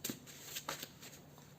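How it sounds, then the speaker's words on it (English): Tarot cards being shuffled by hand give a few quick, soft riffling and flicking bursts, close and quiet, with no talking. "I'm going to shuffle it and come back."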